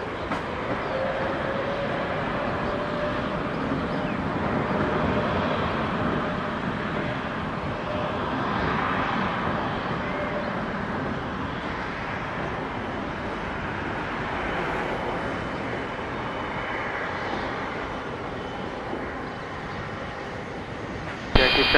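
A Biman Bangladesh Boeing 787 airliner rolls for takeoff, a steady broad jet roar holding at moderate distance throughout, with faint radio chatter in the background.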